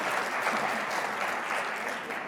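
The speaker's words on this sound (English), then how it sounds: "Should we just give one more round of applause?" Audience at a business pitch competition clapping in a dense, steady round of applause that fills the room at even loudness throughout.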